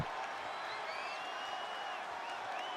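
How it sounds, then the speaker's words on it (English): Wrestling event crowd in an arena letting out a sustained, rising group "woo" that holds steady for a few seconds as a broad, moderately loud roar with scattered whistles and cheers. "Odd woo from the crowd, but that's fine."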